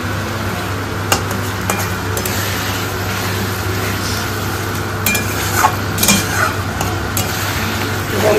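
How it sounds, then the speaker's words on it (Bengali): Masala spices fry in a pan with potatoes, giving a constant close sizzle with intermittent clinks and scrapes of a utensil stirring against the pan, with no voices over it. "মশলাটা এখন ভালো করে কষিয়ে নেবে।"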